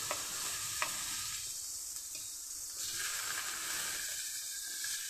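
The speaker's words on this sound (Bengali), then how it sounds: "এখন এখানে গাজর ক্যাপসিকাম বিন আর কাঁচা লঙ্কা নিয়েছি আমি ভেজে নিচ্ছি" Carrot, capsicum, beans and green chilli fry on a low flame, giving a soft continuous sizzle with occasional stirring scrapes, close but fairly quiet.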